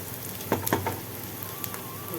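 Onions sautéing in a pan for mushroom biryani give a soft, steady sizzle, with a couple of brief stirring scrapes early on and a quieter frying hiss the rest of the time.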